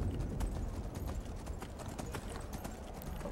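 A horse's hooves clip-clop steadily in the Skyrim video game, a continuous rapid rhythm of hoofbeats on ground, moderately close with faint ambient noise beneath.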